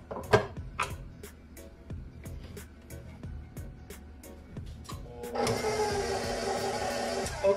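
A stand mixer starts up partway through, mixing snickerdoodle cookie dough in its bowl with a steady, even whir after a stretch of regular rhythmic tapping.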